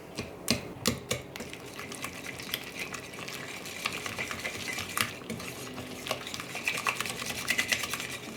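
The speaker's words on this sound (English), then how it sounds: "So I've got 1 egg, room temperature, and a half a teaspoon of vanilla. And just mix this all together too." An egg and vanilla are stirred into gluten-free graham cracker dough in a bowl, with soft clinks and scraping from a utensil in an uneven rhythm, quiet and close.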